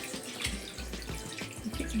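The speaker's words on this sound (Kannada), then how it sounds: "ಈ ಪಾತ್ರೆಗೆ ಸ್ವಲ್ಪ ನೀರು ಹಾಕ್ಕೊಂಡ್ಬಿಟ್ಟು" Water poured into a cooking vessel while preparing holige sambar: a short, quiet run of splashing pour and trickle, close up, with no talk.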